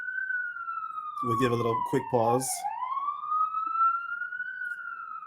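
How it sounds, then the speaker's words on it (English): A siren wails steadily in the distance, its pitch slowly rising and falling, while a person speaks briefly over it. "but sorry about the sirens"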